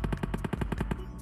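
Rapid automatic gunfire from the mobile battle-royale game PUBG Mobile: about ten sharp, evenly spaced shots in just over a second, loud and close, with a brief pause before one last report.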